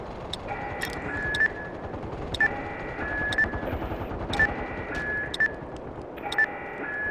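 Rapid automatic gunfire bursts from the online shooter game MAG repeat about every second over a constant background hum, each burst short and sharp with bright ringing tones between them.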